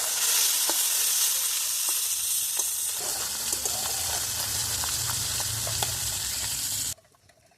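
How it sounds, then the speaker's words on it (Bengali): Small chuno puti fish fry in hot oil in a pan, giving a close, steady crackling sizzle with scattered pops that cuts off abruptly near the end. "আর একটু ভালো করে গরম হলে তবে মাছগুলো দেবো। অল্প অল্প করে ভেজে নিই।"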